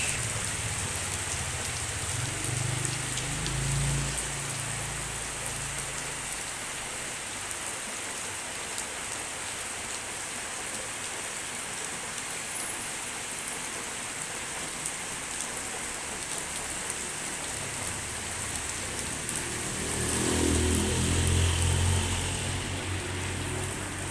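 Light drizzling rain falling in a village, a steady close patter on surfaces, with a low engine rumble rising briefly near the start and again near the end.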